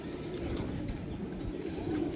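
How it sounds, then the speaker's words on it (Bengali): Pigeons coo softly in a low, rolling murmur, close by and faint, over steady background rumble that continues without a break throughout. "এই রে পায়রা দেখুন পায়রা দেখানোর চেষ্টা করছি আপনাদের"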